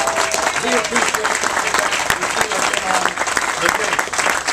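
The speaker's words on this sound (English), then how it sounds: "Danny Taylor, take your applause." At an outdoor press event on a transit loan, a crowd applauds the recognized guest with thick, continuous clapping, and voices murmur beneath it.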